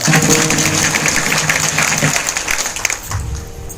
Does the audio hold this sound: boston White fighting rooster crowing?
no